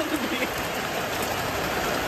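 Rain falling outdoors on a rainy day: a steady, dense hiss of drops with no breaks across the short stretch.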